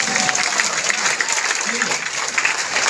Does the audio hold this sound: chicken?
no